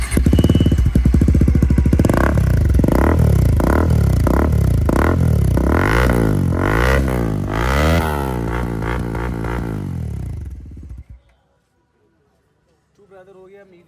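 A modified Bajaj Pulsar NS400 fitted with an R1M aftermarket exhaust is revved hard several times up close, the loud engine rising and falling before cutting off into near silence.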